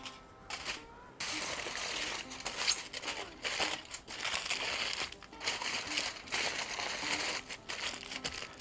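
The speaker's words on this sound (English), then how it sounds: "I'm gonna wrap these up. I used heavy duty aluminum foil" Heavy duty aluminum foil is crinkled and folded in a double layer around a rack of Memphis-style ribs, giving close, continuous crackling and crumpling with brief pauses between handfuls.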